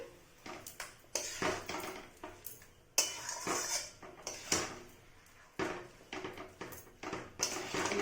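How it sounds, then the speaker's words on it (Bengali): A spatula mixes boiled bottle gourd into masala-fried potatoes in a pan, making irregular bursts of metallic scraping and clattering against the pan, fairly close, with short pauses between strokes and no voices. "এবারে এটাকে মিশিয়ে দেবো ভালো করে"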